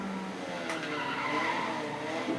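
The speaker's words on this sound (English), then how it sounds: "See there, use the handbrake, it's fucking useless." Tires skid and squeal under a handbrake turn in the racing game Need for Speed ProStreet on PlayStation 2, a steady, loud screech with engine roar running through the whole stretch.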